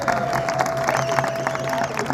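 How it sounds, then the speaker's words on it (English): A dense crowd cheers and applauds for the winners at the 2016 6 Hours of Fuji endurance race, a steady broad roar of many voices at moderate distance, with a commentator's voice faintly underneath. "Listen to the crowd for the winners."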